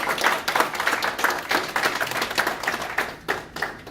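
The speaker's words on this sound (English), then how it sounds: "Give yourself a round of applause." Workshop audience in a room claps, a modest group of individual hands with distinct, uneven slaps, close and fairly clear, fading toward the end.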